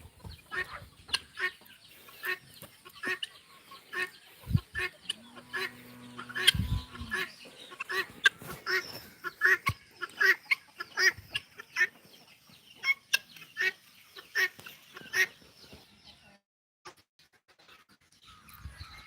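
Native country chickens cluck and squawk repeatedly at close range, a busy scattered chorus of short calls with a brief lull near the end.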